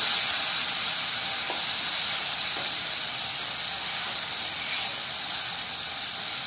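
Tomato pieces frying in oil in a pan while prawn biryani is being cooked, giving a steady, loud broadband sizzle and hiss that runs unbroken throughout with no voices.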